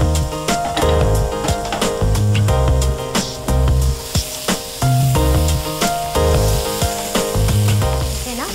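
Cauliflower pepper fry crackling in a pan, a steady loud sizzle with rhythmic stirring scrapes and clanks throughout, no voices.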